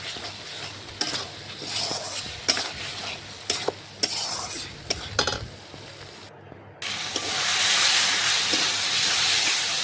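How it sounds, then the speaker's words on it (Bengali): Potatoes fried earlier are stirred with spices in a pan over a wood fire, giving sharp scraping stirs and bursts of sizzling that swell into a loud, steady hiss of frying near the end. "তো দেখুন আমি ভেজে রেখেছিলাম আলু, সেগুলো দিয়ে মশলার সাথে ভালোভাবে আবারও কিছুক্ষণ রান্না করে নিচ্ছি।"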